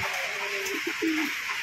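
Pigeons coo softly in a loft, a few short low throaty calls rising over a steady background hiss, close but not loud.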